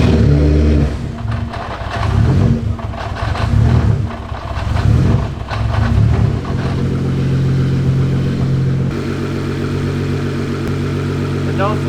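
A Nissan R35 GT-R engine turns over and revs in loud bursts, then settles into a steady idle, with people talking nearby.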